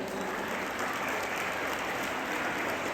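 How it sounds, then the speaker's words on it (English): An audience at a school event claps continuously for a visiting former student, a steady, even wash of many hands throughout the short stretch. "Please clap for him"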